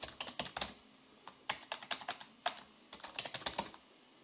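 Steady typing on a computer keyboard while entering a database table, a run of quick clicky keystrokes in uneven bursts with brief pauses, close and moderately quiet with no talk.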